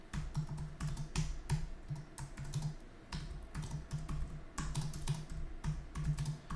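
Quick, uneven keystrokes clatter on a computer keyboard as a Git commit command is typed, close and fairly quiet, with short pauses between bursts.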